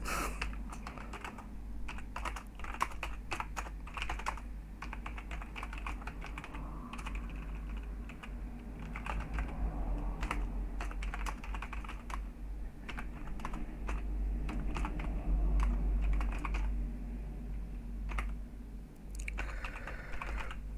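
Steady typing on a computer keyboard, with irregular clusters of keystroke clicks at close range, quiet and continuing for about twenty seconds with no speech.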